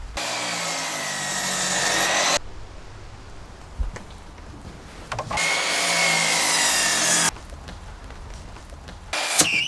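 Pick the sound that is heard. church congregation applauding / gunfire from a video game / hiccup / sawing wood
sawing wood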